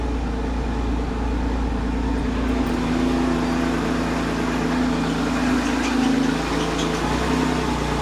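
A Citroen XM 3.0 24V engine idles steadily at close range while a droning hydraulic pump with a faulty valve whines on top, continuous and loud throughout.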